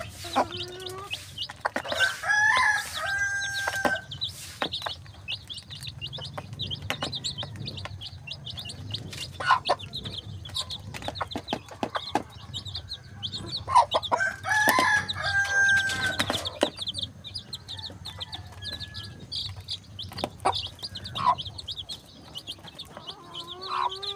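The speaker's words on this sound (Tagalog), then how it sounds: "Ayan na yung mga manok." Roosters crow loudly twice amid constant clucking and chirping from a flock of native chickens nearby on a farm, with bursts of activity throughout.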